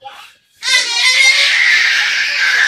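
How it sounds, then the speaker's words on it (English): A young boy lets out a loud, sustained scream after a short whimpering sound and a moment of silence. The cry holds steady and close, shrill and strained, as it trails on to the end. "what's with all the screaming, boy?"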